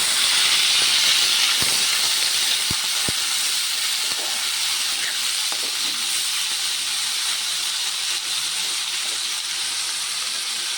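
Boiled taro lowered gently into a hot pan gives a loud, steady hiss of sizzling oil that keeps going at an even level throughout, with a few faint clicks underneath.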